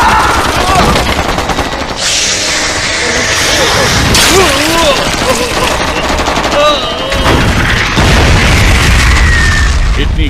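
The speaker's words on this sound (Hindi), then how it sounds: "गोलियां चलाते रहो।" Heavy gunfire rattles in rapid bursts with booming blasts, loud and close, while voices shout over the shooting.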